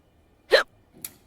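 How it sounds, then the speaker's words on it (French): Two quick hiccups about half a second apart, the first sharper and louder, the second softer, each a short gulping catch of breath in an otherwise quiet room with no talking. "J'ai le hoquet."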